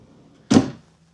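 A drawer in a hotel suite near Disneyland slides open with a single short wooden scrape and thump, close and fairly loud, alone in an otherwise quiet room.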